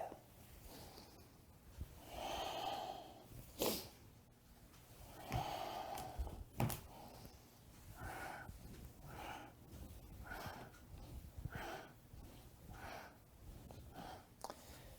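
Slow, deep qigong breathing during an intermediate class: a few soft, rhythmic inhales and exhales, close but faint, alone without talk.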